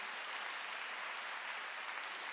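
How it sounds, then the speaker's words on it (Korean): A church congregation at a Wednesday worship service applauds in a brief, even wash of many hands clapping, heard faintly and continuously without any voices. "박수로 하자."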